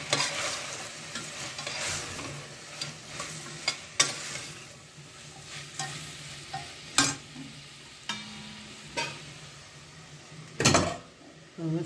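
Masala spices (chilli powder, turmeric, coriander powder, asafoetida) frying on low flame in a pan for rice dal masala kichadi, with a gentle sizzle and intermittent stirring scrapes and clatters, near and moderately quiet, no talk.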